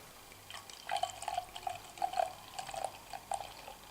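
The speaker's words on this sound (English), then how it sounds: "put it in my Teku glass, get a little pour going here" Thick, syrupy Alesmith Speedway Stout, a 12% imperial stout, pours into a Teku glass with soft glugging drips and gentle liquid splashes, quiet and close.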